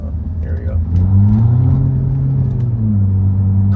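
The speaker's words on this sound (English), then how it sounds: "I'm going to put it in sport so you guys can kind of hear it" A BMW M4 F82 driving in sport mode, its engine a loud, deep low rumble that rises in pitch as the car pulls, with someone talking over it.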